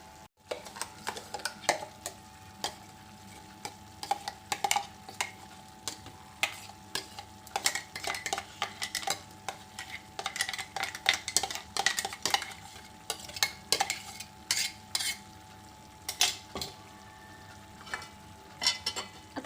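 A utensil stirs spinach gravy into chicken in a pan. It makes a long run of quick clicks and scrapes against the metal over a low sizzle, close and irregular, and nobody speaks.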